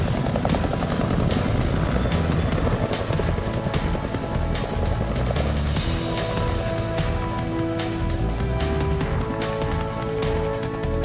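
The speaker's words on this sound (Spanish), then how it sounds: "aquí vemos uno de los helicópteros de transporte de agua que va camino al lugar del incendio" A water transport helicopter flies steadily overhead toward a wildfire in Valle Nuevo, Constanza, its rotor thudding beneath a dense wash of other sound, loud and continuous throughout.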